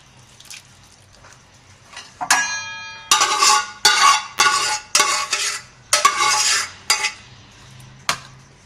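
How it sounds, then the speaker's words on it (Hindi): Roasted mutton being scooped from a cooking pot into a bowl for a pulao: a metal spoon clinks and scrapes against pot and bowl in a string of sharp, close bursts, with quieter pauses between them. "अब हम एक बोल में गोश्त, ये जो हमारा भुना हुआ गोश्त है इसको हम निकाल लेंगे।"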